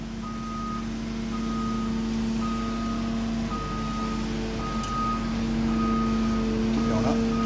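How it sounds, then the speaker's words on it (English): A skid loader at a school demolition site sounds steady, evenly spaced reversing beeps over a loud diesel engine rumble while backing into a bucket, with brief background talk. "we back the skid loader into the bucket"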